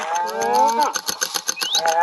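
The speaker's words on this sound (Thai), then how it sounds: "วัวน่าจะร้องนะครับ น่าจะหิวอาหาร" A Minecraft cow moos in a short, sustained low call with drawn-out harmonic tones, then lets out a series of rapid choppy pulses. It sounds close and loud, with no talking over it.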